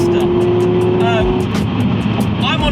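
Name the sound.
Subaru Impreza STI S203 driving a sweeping bend at speed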